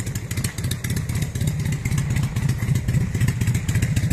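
A motorcycle engine putters steadily nearby at a bike parking spot on the beach promenade in Rethymno, Crete, with a rapid, even throb and no talk.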